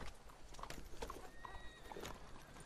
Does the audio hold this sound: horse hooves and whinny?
yes